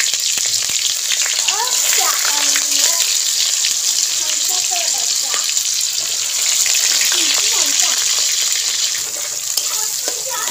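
Onions frying in a pan with carway (ajwain), a steady close sizzle running throughout, with faint voices speaking in the background.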